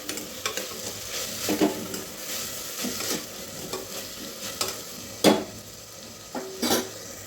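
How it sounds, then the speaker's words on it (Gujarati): Peas are stirred into vegetable noodle rice in a frying pan, with sharp spatula scrapes at an irregular pace over a soft, constant sizzle. "વટાણા છે એ પણ આપણે થોડાક નંગ ઉમેરશી વટાણાને મિક્સ કરશી"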